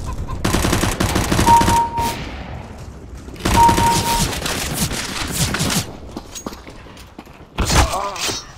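In Counter-Strike: Global Offensive, automatic gunfire comes in two loud bursts of rapid shots, followed by scattered single shots and clattering game effects nearby.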